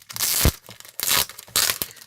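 Thick cardstock paper, around 200 gsm, being handled and bent, three bursts of crinkling and crackling close up, with a sharp crunch in the first.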